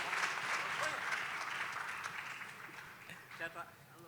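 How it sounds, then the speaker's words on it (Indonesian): Applause from a small audience at an Indonesian gathering greeting Pak Erick, fairly faint and fading over a few seconds, with voices talking over it toward the end. "Tepuk tangan dong Pak Erik"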